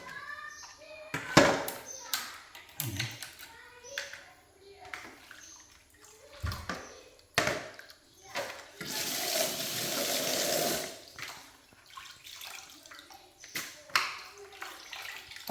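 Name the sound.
washing small freshwater shrimp in running water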